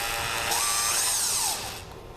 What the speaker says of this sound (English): we're going to drill out the center rivet or the center snap in the middle